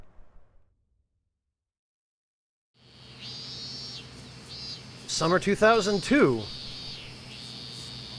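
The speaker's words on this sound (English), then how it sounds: "That noise is cicadas, by the way." Cicadas in the video game Yakuza: Like a Dragon drone in a steady, high, buzzing chorus that starts after a short silence and keeps going while a voice speaks over it.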